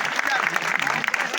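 Loud, dense applause from an audience at a college annual function in Belpada, a steady wash of clapping with crowd noise and some voices mixed in throughout.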